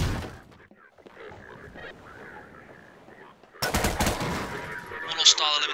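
Gunfire breaks out during a Garry's Mod hostage rescue mission, with rapid, loud bursts of shots erupting suddenly after a quieter stretch of faint background sound and a sharp, high-pitched tone near the end.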